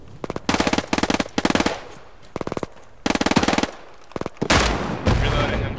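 Bursts of machine gun fire in the World War II shooter Hell Let Loose, set in Hurtgen Forest: loud, rapid rattling volleys broken by short pauses, ending in heavier booming shots and a noisy wash.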